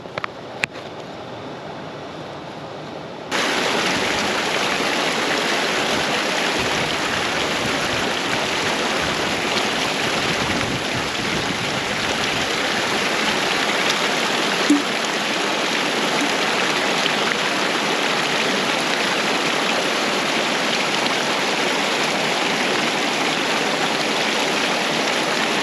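Steady rushing of stream water flowing in the Australian bush, a loud, continuous broadband wash that swells in after a few seconds and holds evenly, with no voices.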